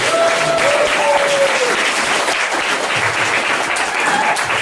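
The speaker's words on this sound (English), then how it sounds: "So y'all make some noise for the very funny Matthew Tate" A comedy club audience applauds a comedian being introduced, with dense, steady clapping and a few cheers and whoops filling the room at close range.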